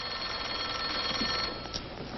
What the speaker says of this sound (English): your phone's ringing, Margie, but tell him to wait.